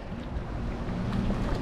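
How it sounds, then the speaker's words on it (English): A small boat passes on the water out at sea near Bali, a low steady engine rumble mixed with wind and surf noise, fairly faint and brief. "All right, there goes the boat."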